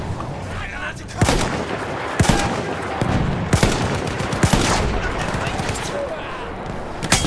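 Gunfire in Battlefield 1 multiplayer, several sharp loud shots and cracks spaced irregularly over a dense rumbling battle backdrop, with a voice talking faintly underneath.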